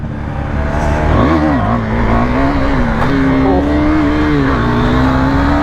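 A Kawasaki Z900 motorcycle ridden aggressively roars loud and close, its engine note rising and falling through quick revs and shifts in a continuous, steady drone.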